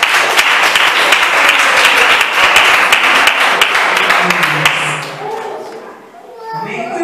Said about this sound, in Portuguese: As palmas do meu Senhor.